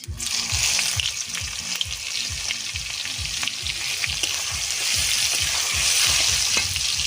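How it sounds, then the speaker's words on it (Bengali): Chopped onions fry in mustard oil with bay leaf, dried chilli and whole cumin, giving a loud, steady sizzle over regular low thumps from stirring. "পেঁয়াজটা সুন্দর করে ভাজা হয়ে গেছে"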